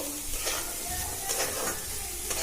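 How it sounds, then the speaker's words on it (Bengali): Soaked chickpeas and boiled potatoes fry together in a pan, a steady close sizzle with scraping stirs from a utensil. "এবার একসাথে এটা ভেজে নেব।"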